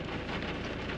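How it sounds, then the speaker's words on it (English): Rain falling on a caravan in the desert near Broken Hill, with the wipers on: a dense, steady hiss of drops drumming on the roof, loud and continuous. "It's raining in the desert."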